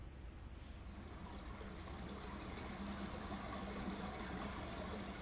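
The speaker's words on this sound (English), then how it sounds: "Here's what the babbling brook sounds like." Babbling brook sounds played by a Google Home smart speaker: a steady, low-level rushing and gurgling of running water, continuous and even throughout with no talking.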